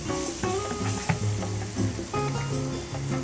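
Seasoning with black pepper sizzles steadily in a hot pan for a Filipino cheesy beef empanada filling, loud and close, with a stirring utensil scraping and clinking over the continuous frying hiss.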